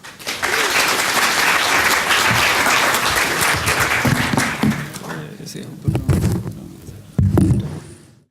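Loud audience applause fills a lightning-talk session at PyCon SE 2017, a dense steady clapping wash that thins toward the end, with a few louder bursts and brief voices near the close.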